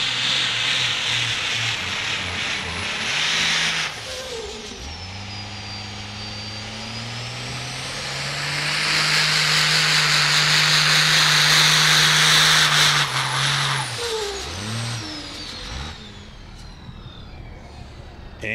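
A 12-valve drag-race diesel truck pulling a sled down the track at a pulling event, its engine roaring loud and close, rising in pitch through gear changes and then fading as it moves away, with a high whine above.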